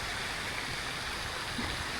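Constant broadband hiss of light rain falling in Pattaya, Thailand, steady and even with no pauses, like a soft wash of water.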